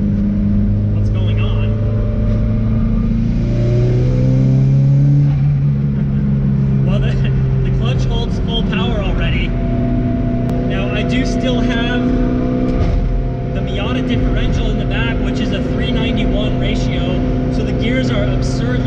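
A Mazda Miata fitted with a ZF 5-speed transmission drives in fifth gear, its engine humming steadily from inside the cabin with shifting tones. Someone talks over it throughout.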